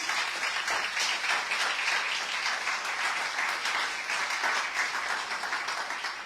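A church congregation applauding: dense, sustained clapping from many hands fills the whole stretch at an even, lively level, with no voices standing out.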